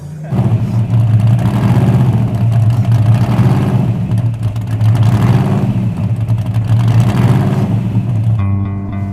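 A Hemi-powered Super Bee drag car with a blower and nitrous revs hard, its loud, rough engine surging in repeated waves before cutting off abruptly near the end; faint voices sit beneath it.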